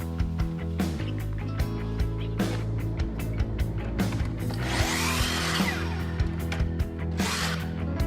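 Cutting four small wood pieces for a frame in a workshop with router and slot cutter tooling: a steady motor hum with a series of sharp cutting bursts and knocks, the loudest rasp near the middle, close by.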